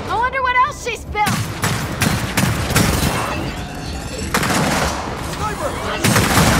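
Sniper gunfire in Gears of War 4 comes as a series of loud, sharp shots at irregular intervals amid a noisy battle, with a voice shouting briefly at the start.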